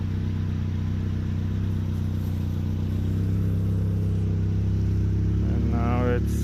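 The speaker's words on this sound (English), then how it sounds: "let's check how the engine sounds." A Saab's restored turbo engine runs steadily up close with a low, even drone, the pitch lifting slightly toward the end.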